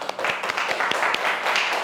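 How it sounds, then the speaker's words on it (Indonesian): Classroom applause from a group of students, a dense steady patter of many hands clapping at close range for about two seconds, with faint voices mixed in. "Sebelum itu tepuk tangan dulu."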